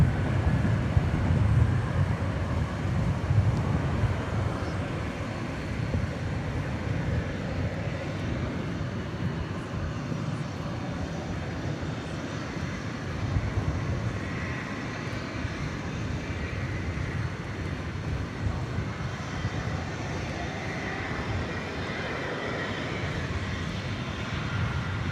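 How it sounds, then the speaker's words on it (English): An Asiana airliner heading for Seattle takes off at DFW Airport at night, its engines a broad continuous roar heard from a distance, swelling slightly and holding steady throughout with no talking. "The Asiana Queen lifting off now for Seattle"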